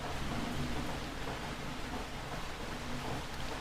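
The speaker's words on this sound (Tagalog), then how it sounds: "Malakas ng ulan." Heavy rain pouring down in a steady, dense hiss with no letup, close and loud for the whole stretch, with no voices.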